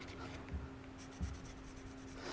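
A watercolour pencil drawn around the edges of paper pieces, faint scratchy strokes in short bursts against quiet room tone.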